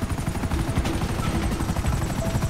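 A helicopter in the video game GTA Online gives off a steady, dense rotor and engine roar with rapid chopping pulses, loud and continuous throughout, with no talk over it.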